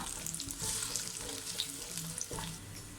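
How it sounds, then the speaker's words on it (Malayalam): Sliced onions for Malabar-style ghee rice sautéing in a pan: a steady soft sizzle and crackle with occasional clinks and stirring scrapes, close and continuous, no talking. "അപ്പോൾ സവാള ഞാൻ നീളത്തിൽ കട്ട് ചെയ്ത് ഇട്ട് കൊടുത്തിട്ടുണ്ട്."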